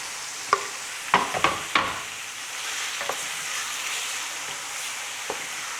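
Sausage sizzles in a seasoned pan for Haitian spaghetti, a steady close frying hiss broken by a few sharp clinks and scrapes from utensils, with no talking.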